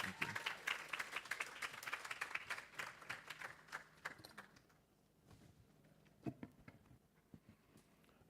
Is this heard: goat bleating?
no